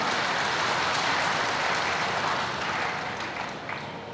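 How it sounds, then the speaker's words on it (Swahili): Audience applause after a speech, a dense continuous wash of clapping that stays loud and steady before easing slightly toward the end, with no voices over it. "Na katika hili naombeni tujipigie makofi tena mengi sana"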